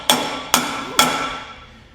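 Three sharp metallic hammer blows strike a driver to square a part on a Toyota 80 Series Land Cruiser axle, evenly spaced about half a second apart, each ringing briefly before fading.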